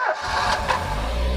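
A Bedford CF 4x4 van with ex-military low mileage cranks and catches, settling into a steady, loud idle with a faint tappet chatter running through the engine note.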